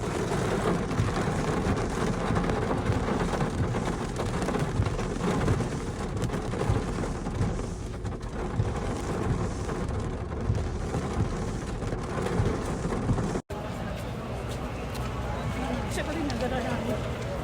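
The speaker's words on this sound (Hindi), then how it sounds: "जैसे ही होटल से निकले तो बहुत तेज़ बारिश।" A very heavy downpour just outside a hotel during the 2024 Hajj makes a dense, unbroken hiss throughout; no thunder stands out, and a brief cut interrupts it near the end.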